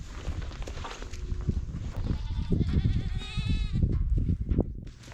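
Goats on a hobby farm bleat repeatedly, several wavering nasal calls close by over shuffling and rustling in the pen.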